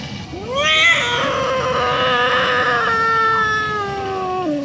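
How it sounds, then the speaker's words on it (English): A kitten named Felix cries out in pain during a vet's abdominal exam. It is one long, loud, wavering yowl close by that rises at first and then drags on and slowly falls. "he's yelping out when I'm feeling his abdomen"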